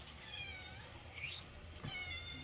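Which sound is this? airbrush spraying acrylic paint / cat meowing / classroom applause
cat meowing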